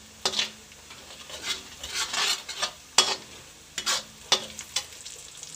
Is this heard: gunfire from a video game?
no